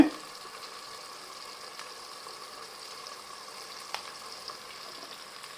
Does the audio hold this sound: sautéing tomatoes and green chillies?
yes